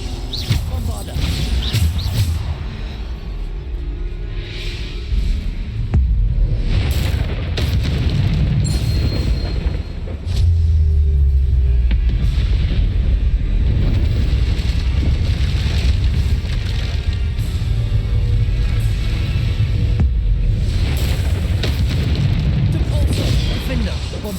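Bombarda explosion spells booming during combat in the Hogwarts Legacy video game, with repeated deep blasts and bursts over busy game action and character voices.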